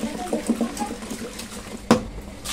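Fish are rinsed by hand in water, giving a few small sloshes and splashes close by, then one sharper splash near the end.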